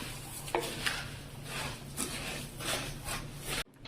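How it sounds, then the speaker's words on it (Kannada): A spoon stirs sev vermicelli with cardamom powder in a pot for festival laddu, with repeated scraping, rubbing strokes against the metal at a steady, unhurried pace, heard close and fairly quiet. "ನಾವು ತಗೊಂಡಿಟ್ಟಿರೋ ಸೇವ್ನ ಹಾಕ್ಕೊಳ್ಬೇಕು ಹಾಕಿಬಿಟ್ಟು ಈ ರೀತಿ ಮಿಕ್ಸ್ ಮಾಡ್ಕೊಬೇಕು"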